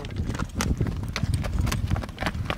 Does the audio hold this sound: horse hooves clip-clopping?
yes